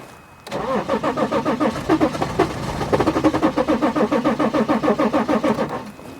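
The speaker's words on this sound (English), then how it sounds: "Let me crank the engine." A BMW X5 engine cranks without catching, the starter motor churning in a steady rhythmic chug for about six seconds, loud and close, with no firing or idle afterward.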